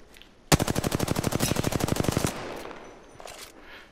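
Rapid automatic gunfire in a competitive video game, a loud sustained burst of evenly spaced shots lasting under two seconds, followed by quieter game noise and a few faint distant pops.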